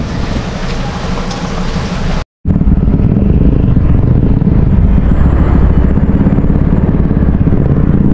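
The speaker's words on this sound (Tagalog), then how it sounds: "hindi tayo tinitigilan ng ulan" Rain pours down during a road trip from Hulugan Falls in Laguna, a loud, steady wash mixed with road rumble that cuts out briefly near the start.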